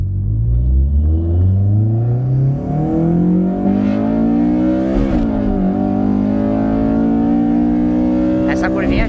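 A Honda Civic Si roars close up while driving, its engine pitch climbing steadily through the gears as it accelerates, loud and sustained, with a brief dip in the middle.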